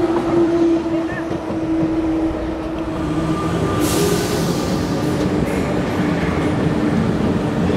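A passenger train at a Paris station, heard up close as a steady rumbling hum of cars and wheels on rails, with a brief hiss partway through and faint voices in the background.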